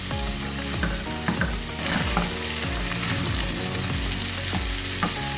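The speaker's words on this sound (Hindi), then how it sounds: "अब हम इसमें बॉइल्ड चने डाल दें। चनों के साथ इसको मसाले को अच्छे से भूनना है।" Boiled black chickpeas roast with masala in a hot pan, giving a steady loud sizzle broken by repeated scraping stirring strokes at an even pace, heard up close with no voices.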